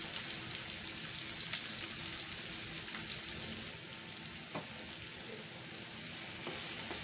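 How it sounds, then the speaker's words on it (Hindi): Two medium chopped onions sautéing over a slow flame, giving a steady, close, crackling sizzle with occasional sharper pops and light stirring scrapes. "ऑनियन को ट्रांसलूसेंट होने तक हमें भून लेना है।"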